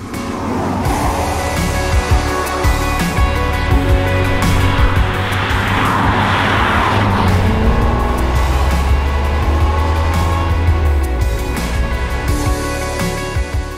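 A BMW 850CSI with a V8 engine drives past, its engine note swelling as it nears and then receding, a loud, smooth mechanical roar that shifts in pitch with no talking.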